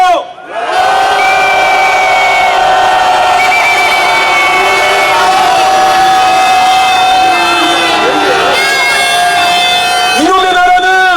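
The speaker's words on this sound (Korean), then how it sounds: "힘찬 야유의 함성 질러주십시오!" A large protest crowd outside Samsung headquarters roars with sustained shouting and booing, loud and continuous, with a voice over a loudspeaker rising above it.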